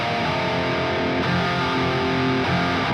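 A Boss DS-1 distortion pedal run with the distortion fully up, paired with a Grind pedal set at noon, gives a thick, saturated electric guitar tone. The notes are sustained, with a couple of chord changes, played loud and with no talking.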